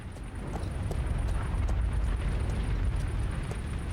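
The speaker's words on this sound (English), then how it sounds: "Oh, damn, it's on fire." A fire burning at night in Kingdom Come: Deliverance 2: a steady, loud roaring rumble like a large blaze, with faint crackles and distant clicks running throughout and no voices.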